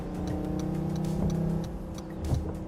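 A six-cylinder E53 car plays an artificial engine sound, a steady low synthetic hum that swells slightly as if revving, heard close and alone.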